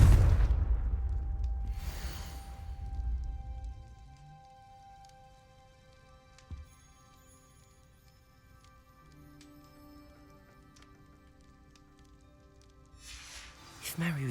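A Confringo explosive spell detonates in Hogwarts Legacy, a loud booming blast at the start followed by a second burst and a fading rumble, with a faint pop later and another burst near the end; a voice speaks around it.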